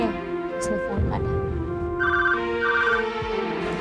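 Telephone ringing in a Hindi TV drama scene, a repeating electronic trill heard twice over a steady background music bed, with voices briefly talking underneath.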